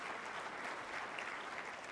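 An audience claps at a lecture on religion and secularization, a steady even wash of applause from a large room, moderately distant and continuous throughout.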